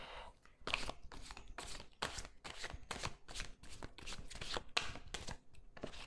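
A deck of tarot cards is cut and riffled with quick, crisp, rhythmic snaps close to the microphone, repeating steadily with no talking.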